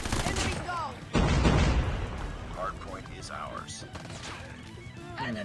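Bursts of OTs9 gunfire in the video game Call of Duty Mobile, with a dense rapid-fire volley and impact crashes amid game effects, as someone talks over the shooting.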